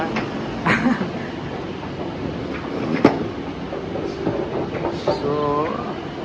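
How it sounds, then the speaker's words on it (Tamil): A Chennai Metro train runs with a steady low rumble, brief clanks and a rising electric whine near the end, while people talk nearby. "இதுதான் ட்ரெயின் மெட்ரோ ட்ரெயினு பாருங்க மூவ் ஆகும் பாருங்க"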